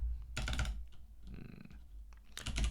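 Typing on a computer keyboard, two quick bursts of close, crisp key clatter separated by a quieter pause with a few light clicks.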